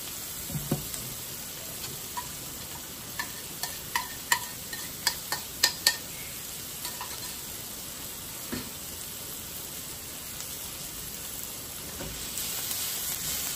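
Onion and garlic sauteing in a pan for coconut-milk sardines, a steady close sizzle with scattered sharp clicks and scrapes from stirring, densest early on, then a calmer hiss, no speech.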